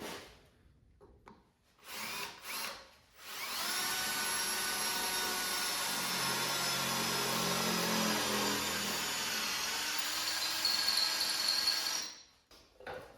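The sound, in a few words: drilling holes in truck frame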